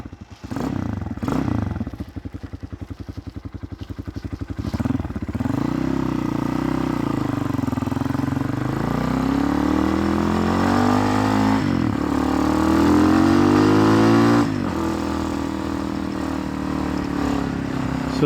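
A Honda Hawk 250 motorcycle with a swapped-in Loncin RE250 engine and Nibbi PE30 carburetor starts with a few chuffs, then idles and revs up and down, loud and close.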